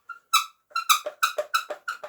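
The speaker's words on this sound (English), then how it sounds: "and it squeaks a lot." A yellow Bullworker exerciser squeaks in a quick run of about eight sharp, high, close squeals as it is worked, each pair rising and falling in rhythm, with no voices.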